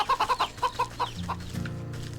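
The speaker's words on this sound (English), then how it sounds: "Chicken, a plump and happy hen." A plump hen clucks in the video game Wytchwood, with a quick run of close, loud clucks followed by a lower, rougher burst of calls and farmyard ambience.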